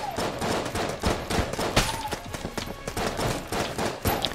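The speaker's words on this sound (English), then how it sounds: "Freaking Rambo bullets here. It's freaking unloading" Rapid enemy gunfire in the video game Enter the Gungeon, a dense, continuous rattle of shots and impacts with occasional sharper bursts, loud and busy throughout.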